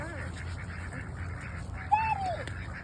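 Scattered duck quacks at a park over steady outdoor background noise, with one sharper, louder honking call standing out near the end.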